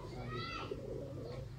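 Sialkoti pigeons cooing: soft, low, throaty coos rising out of a constant background hum, with faint chatter and noise from the surroundings underneath.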